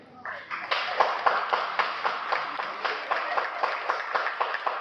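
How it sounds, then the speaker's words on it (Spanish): A church congregation claps for the mothers present, a moderately loud, steady applause with rhythmic group clapping sustained throughout. "démosles un aplauso"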